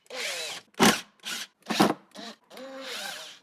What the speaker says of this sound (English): we're going to remove the 2 T20 screws that hold on the faceplate